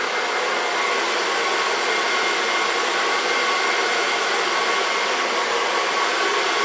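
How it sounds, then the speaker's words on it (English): A hair dryer runs steadily at close range while blow-drying hair, a loud, even, continuous whoosh with no voices over it. "So first I start blow drying just the hair dry."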